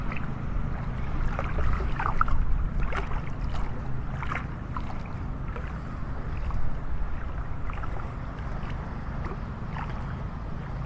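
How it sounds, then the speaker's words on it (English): Steady wind blows across a beach at Delnor-Wiggins in North Naples, Florida, a continuous broadband rush that sits loud and close for the whole stretch with small gusts and no one talking. "Wind's coming right out of the east."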